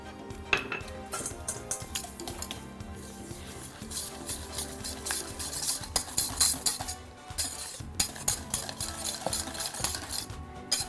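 Eggs and sugar being whisked together in a bowl for a pie filling, with steady clinks and scraping of a utensil against the dish, fairly close and continuous with no talking.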